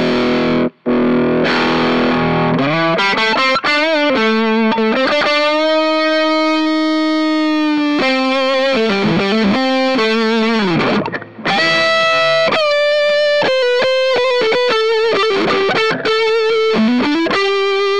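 Electric guitar played through an Iron Man Rangemaster pedal with gain added, sustained distorted chords and single notes ringing out loud and alone, with brief pauses and slides between phrases.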